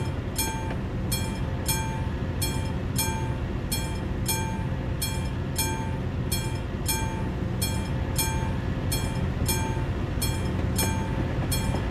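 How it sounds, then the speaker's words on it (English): A train passes at a level crossing in the video game Euro Truck Simulator 2, its wheels clicking over rail joints in a steady rhythm under a constant low rumble, with no talk. "Got a train coming."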